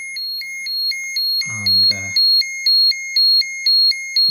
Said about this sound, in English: There's the alarm going off.